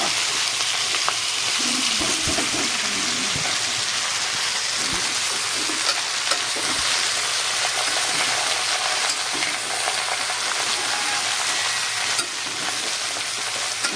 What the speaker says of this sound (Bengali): ফোড়নটা হয়ে গেছে। এবার দেব এই যে চাল কুমড়োর লঙ্কা চেরা